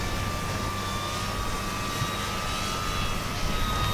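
A Arrows Bigfoot RC airplane flies at about half throttle, a steady motor drone with a thin whine running evenly throughout, at moderate distance.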